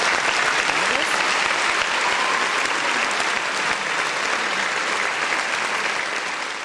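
Dense, sustained applause from a crowd fills the whole stretch, loud and close with no gaps, fading only slightly at the very end.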